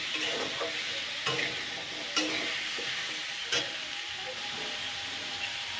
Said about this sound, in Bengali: মিষ্টি কুমড়োটা এবার দিয়ে দেবো এটাও আমি দুই মিনিট মতন ভেজে নেবো